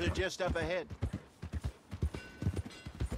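A horse in Red Dead Redemption 2 clops along at a steady walk, its hoofbeats close and rhythmic beneath a voice that makes calming brr sounds and talks to the animal.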